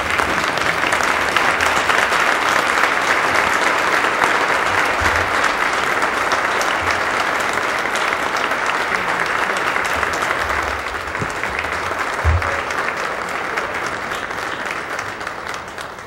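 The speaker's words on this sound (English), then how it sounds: "This is a round of applause for Urban Prep, Mr. Tim King." Steady, loud, sustained clapping fills a large hall at an annual King Holiday Celebration after a speech, a dense wall of applause that eases slightly toward the end.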